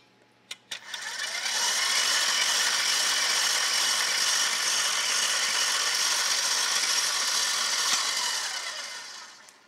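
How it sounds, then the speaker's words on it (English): An electric mixer creams butter for Greek kourabiedes Christmas cookies. After two brief clicks it starts up into a loud, steady whirring drone that runs close and unbroken for about nine seconds, then begins to wind down at the end. "this could be going on 8 to 10 minutes of creaming that butter"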